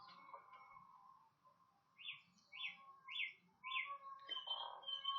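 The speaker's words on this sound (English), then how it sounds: "there's our thrush" A thrush singing in spring, clear repeated whistled phrases and a short run of four rising-falling notes, faint and somewhat distant over quiet background hum.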